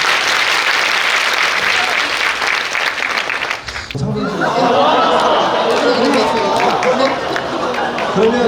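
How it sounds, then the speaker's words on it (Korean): Loud audience applause at a Korean talk concert with retired four-star generals, filling the room for about four seconds before giving way to crowd chatter and noise. "다시 한번 큰 박수 부탁드리겠습니다"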